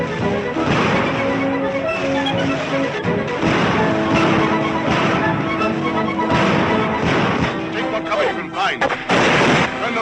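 Dense artillery blasts and rifle gunfire from a battle scene in the 1940 film Northwest Mounted Police, with heavy booms and sharp shots going off continuously and loudly throughout.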